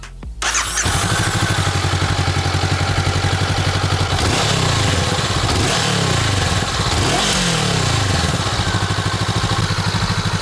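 A Honda CBR500R's 47-horsepower parallel-twin engine starts with a sharp crank, then settles into a loud, close, throbbing idle broken by several quick throttle blips that rise and fall in pitch.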